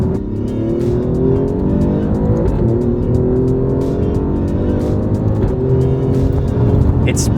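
A 2025 Alfa Romeo Giulia Quadrifoglio with a Ferrari-derived V6, 600 Nm of torque, rear-wheel drive and an 8-speed gearbox accelerates hard. The loud engine note climbs in pitch through quick upshifts, heard close throughout.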